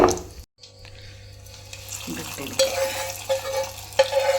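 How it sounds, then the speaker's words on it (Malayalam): Mustard seeds, fenugreek and dried chilies crackle and sizzle in hot oil, with a steady low hum, occasional sharp pops and faint clinks of a utensil, no talking. "കടുക് പൊട്ടിക്കഴിഞ്ഞാൽ കുറച്ച് ഉലുവ പൊട്ടി കൊടുക്കാം ഉണക്കമുളക് ഇട്ട് കൊടുക്കാം"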